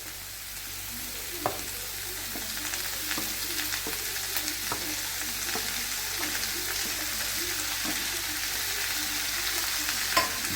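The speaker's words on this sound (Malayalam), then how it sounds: "നന്നായി ഇളക്കി കൊടുത്തിട്ട് ഉപ്പും മഞ്ഞൾപ്പൊടിയും കൂടെ വെച്ച്" Chopped bitter gourd, onion and potato fry in a pan with a continuous soft sizzle, while a spoon stirs in a slow rhythm of scrapes and light clicks against the metal.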